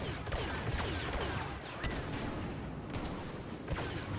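Sniper rifle shots and surrounding battlefield gunfire in Star Wars Battlefront crack over a steady combat din, with several sharp reports standing out through the few seconds.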